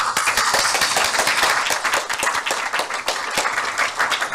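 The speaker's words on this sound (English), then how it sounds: "Actually, give a round of applause." A conference audience claps enthusiastically for an award-winning lecturer, a loud, close, continuous burst of many hands clapping with no talk over it.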